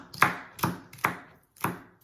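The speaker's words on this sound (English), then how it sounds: "now I'm chopping up the celery" Celery and leek are chopped with a knife on a board for ribollita, four evenly spaced, crisp close chops with short pauses between.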